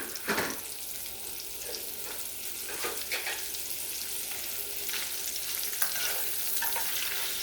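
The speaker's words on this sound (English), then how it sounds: "Now we're just going to throw in our sausage. And we're going to sear that up, get it a nice brown color." Sausage sears in hot oil in a skillet, a steady close sizzle broken by scraping and stirring noises throughout, with no voices.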